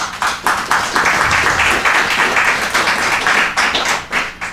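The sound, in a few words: audience applause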